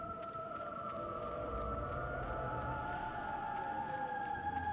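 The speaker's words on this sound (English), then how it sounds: "Oh, now I hear the sirens." Sirens in the 2005 video game God of War sing in sustained, wavering tones that hold steady, layered over a low rumbling ambience, no speech.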